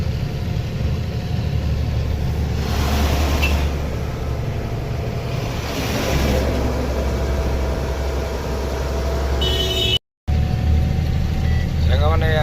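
A vehicle climbs a winding forest ghat road in the Koraput hills, its engine a loud, steady low rumble throughout with swelling road noise, broken by one brief dropout near the end.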